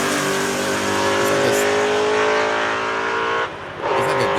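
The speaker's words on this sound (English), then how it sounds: "It's like a distinct intake sound." A V8 engine revving hard with a deep, distinct intake roar, sustained and loud up close for several seconds before a brief drop and then surging again, with no talking.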